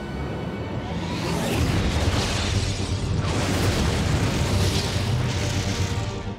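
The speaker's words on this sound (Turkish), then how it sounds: "Sibirya'nın uzak bir bölgesinde büyük bir patlama gökyüzünü aydınlatır." A huge explosion in a remote region of Siberia, the Tunguska event, comes as a sustained, loud, roaring rumble that swells and rolls on for several seconds.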